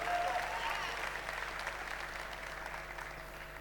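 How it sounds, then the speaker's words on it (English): Keynote audience at a tech conference in Bangalore applauding, a steady diffuse wash of many hands clapping from across the hall, moderately quiet and gradually thinning, with a brief voice at the start. "Yeah, you can clap for that."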